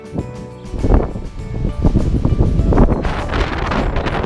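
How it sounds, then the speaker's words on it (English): Strong wind gusts across the windward side of Warderick Wells island in the Bahamas, a steady, loud rushing roar buffeting the microphone throughout with no pauses. "The wind's picking up"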